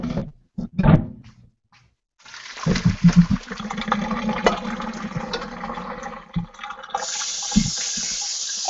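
Cooked golden beets being strained and then rinsed under a cold kitchen tap. A few short clunks come first, then water rushes steadily and loudly for several seconds, changing tone as it splashes.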